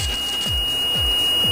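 An oil discharge monitoring unit aboard a ship sounds its 30 liters per nautical mile alarm: a steady electronic tone with a repeating falling chirp about every half second, loud and uninterrupted.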